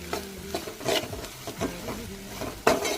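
Ginger garlic paste fries in a pan while a spoon stirs and scrapes it, giving irregular scraping strokes and clinks over a soft sizzle, close and fairly quiet, with no talking.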